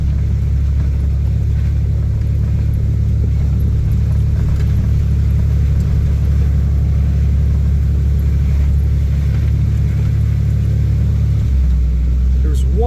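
A car climbs a small hill in a West Virginia holler with its wheels spinning, a loud constant engine rumble and drone that drops in pitch near the end.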